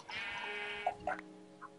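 A sheep in a video game gives a single drawn-out bleat, followed by a couple of short, faint clicks and blips of game sound, fairly quiet and close.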